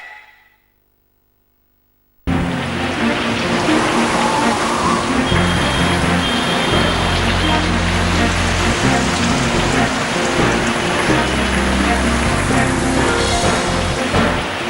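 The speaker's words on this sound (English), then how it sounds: "Heavy rains continue to lash Tamil Nadu after a brief lull." Heavy monsoon rain pouring down in Chennai, Tamil Nadu, a loud continuous hiss with a low rumble of traffic underneath, starting abruptly after a quiet opening.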